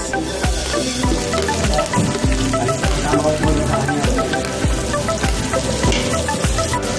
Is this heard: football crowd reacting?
no